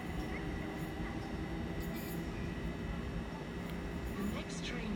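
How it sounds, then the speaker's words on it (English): A London Overground class 378 electric train at Stratford station produces a steady, loud rumble and rolling rail noise throughout, with faint higher station sounds on top. "This is 378213 of the London Overground service to Stratford."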